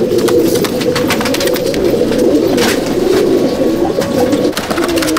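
Pigeons coo steadily in a loft housing a reddish Chennai/Andhra Madrasi breed, a dense, continuous low burbling chorus from many birds close by, with occasional brighter wing flutters and clicks and no talking.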